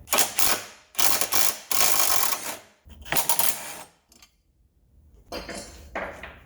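A 15 mm wrench works loose the support bracket bolts on a 2013 Fiat 500 Turbo, giving close, repeated bursts of metallic clanking and rattling separated by short pauses.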